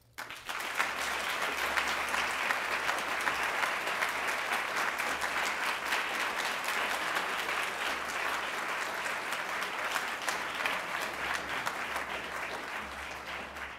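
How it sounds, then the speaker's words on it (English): A large audience at a university honors college symposium applauds steadily, a dense wash of clapping that holds loud and even for the whole stretch with no voices breaking through. "I'd like uh, another round of applause for our four amazing faculty members"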